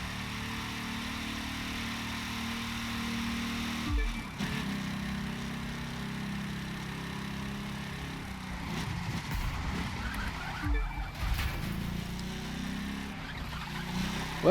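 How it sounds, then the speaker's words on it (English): A DeLorean's engine drives on in the racing video game The Crew 2, a steady mid-pitched hum with a couple of abrupt shifts in tone, like gear changes, partway through. "I wonder if this correctly replicates the reality of driving a DeLorean or not."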